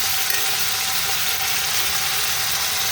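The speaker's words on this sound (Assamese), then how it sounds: "অকণমান ৰঙচুৱাকৈ ভাজি ল'লে টেষ্টটো ভাল আহে" Paneer cubes frying in a pan until lightly browned, giving a steady, even sizzle that stays close and constant throughout with no talking.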